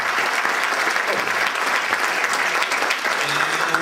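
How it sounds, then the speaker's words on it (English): An audience claps steadily for Felix at a Rubik's Cube event, a dense, even wash of applause that holds at the same loudness throughout with no voices over it. "can we all have a huge round of applause for Felix?"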